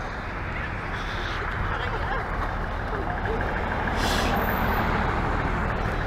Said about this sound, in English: all this damn traffic up here, trucks and everything else running here on this busy street